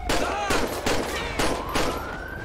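Several sharp gunshots crack in quick succession in GTA 5 during a highway patrol traffic stop, about five loud reports with a police siren rising behind them.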